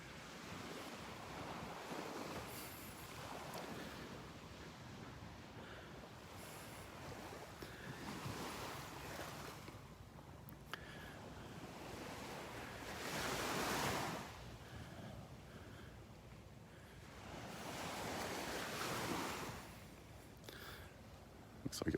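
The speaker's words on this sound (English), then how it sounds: "So this is Vanderbilt Beach," Ocean waves roll onto Vanderbilt Beach in slow surges, each crash swelling and fading, with wind buffeting the microphone between them.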